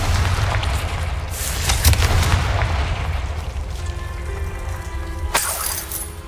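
Bombarda and Confringo spells explode in Hogwarts Legacy, heavy booms rumbling low with sharp shattering crashes and clinking debris, one blast after another, followed by a ringing metallic tail and a final bright burst near the end.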